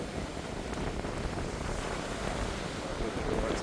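Ocean waves wash against the shore beside the PCH pier, with a cool breeze buffeting the microphone, making a steady, rough, close rushing noise throughout.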